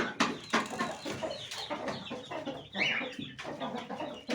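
Hens with eye blinders cluck close by in a bird-filled farm setting, a busy stream of short, overlapping clucks and squawks at varying loudness.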